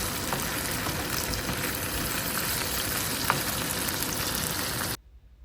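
Naga chillies sizzle and crackle steadily in hot oil in a pan for pickle, a dense close frying hiss with a few small pops, cutting off abruptly near the end.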